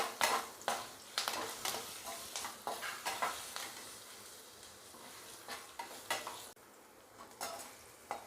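Dried and green chillies sautéing in a pan, with a soft oil sizzle under repeated scraping and stirring strokes of a spoon against the pan, fairly quiet and close.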